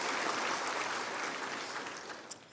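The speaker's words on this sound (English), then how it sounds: "we applaud him as well" Audience applause at a mayor's 2022 State of the City address, a dense patter of clapping from a crowd that holds steady and then gradually thins toward the end, with no speech over it.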